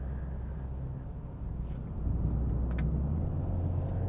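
A 2020 Mercedes-AMG GLA45 S 4MATIC+ engine hums low and steady, swelling a little louder halfway through as it passes or accelerates, with no voices.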